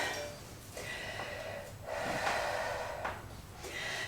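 Slow breathing during a yoga flow, with a few close, audible inhales and exhales rising and falling through the nose, alone without any talk.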